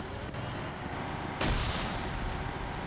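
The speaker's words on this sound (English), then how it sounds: "More grenades being thrown everywhere." Grenade explosions in a military combat video game amid infantry and an armored personnel carrier, one sharp loud blast standing out over a constant roar of battle noise.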